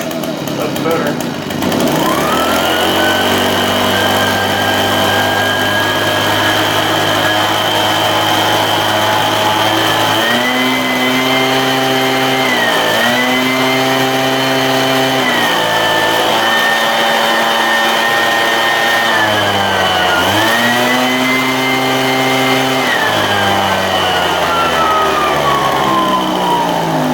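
Small two-stroke leaf blower engine running after a repair, near and loud, its whine repeatedly revving up and dropping back rather than holding a steady idle.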